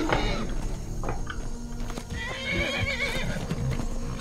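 A horse in the video game Skyrim whinnies and stamps its hooves during a fight, the neighs and clip-clop ringing out over a steady layer of game ambience and scuffling, with no one talking.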